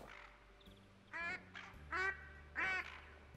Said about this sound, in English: That's a normal mallard.